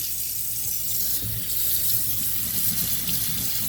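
Tap water runs steadily into a sink to rinse a Hoover React vacuum filter, a continuous close splashing hiss with no speech.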